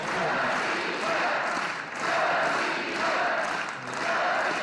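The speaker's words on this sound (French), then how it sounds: "Je suis heureux que la foule ovationne les noms de Medvedev et Poutine" A large, dense crowd cheers the names of Medvedev and Putin, its loud roar rising and falling in rhythmic swells as if chanting, continuous throughout.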